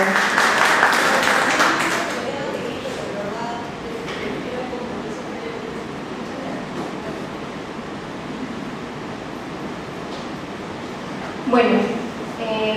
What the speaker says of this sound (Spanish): por favor la pedimos con un fuerte aplauso